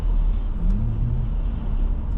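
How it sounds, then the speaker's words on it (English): Buses and other vehicles rumble through New York City traffic from Queens into Manhattan, a steady close engine drone with a brief higher whine, no talk. "Buses here."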